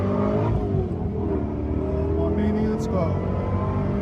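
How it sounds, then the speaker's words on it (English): A 2005 Ford GT pulling hard in first gear from about 4,000 RPM, its loud engine roaring steadily close by for the whole stretch while someone speaks over it. "So we're going to get one last pull for you guys."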